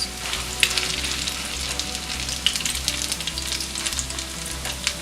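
Tuna and mackerel cakes fry steadily in a pan, giving a dense, close crackling sizzle with scattered spits and pops throughout, heard alone without talk.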